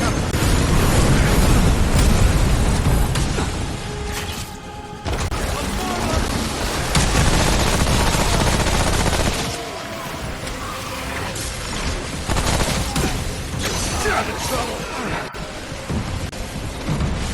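Explosions in the video game Remnant From the Ashes, loud booming blasts and rumbling bursts filling the mix in repeated heavy waves, with players talking over them.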